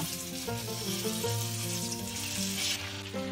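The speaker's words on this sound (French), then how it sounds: "On va venir placer les côtes de veau dans la poêle." Veal chops are laid into a frying pan over low heat: a continuous, moderate sizzle heard close up, with background music running underneath.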